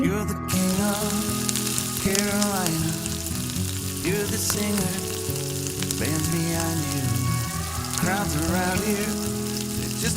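Grated potato frying in hot oil for crispy potato fry, a loud, dense and steady sizzle that crackles continuously up close, with no talking.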